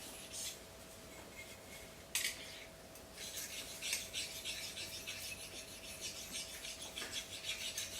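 A slicing knife edge is polished to remove scratches, with alternating up-and-back and circular strokes making a soft, continuous raspy rubbing that swells and fades, close and fairly quiet.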